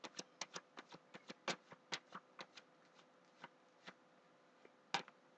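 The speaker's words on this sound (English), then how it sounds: "Okay, one more shuffle." Tarot cards being shuffled by hand, a quick run of crisp snapping riffles close up, thinning out into a few scattered flicks with a final burst near the end; no talk.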